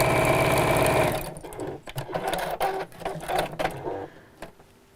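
A domestic sewing machine stitches straps onto a woodland pouch bag, a steady loud motor whir for about a second, then stopping and starting in short uneven bursts with clicks and handling noise.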